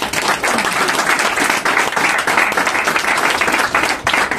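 A church congregation claps and cheers in acclaim of Jesus, with steady, dense applause and scattered voices filling the room at close range throughout.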